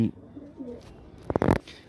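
A black-necked female pigeon's soft low coo on a rooftop, followed by a burst of rustling or flapping nearby.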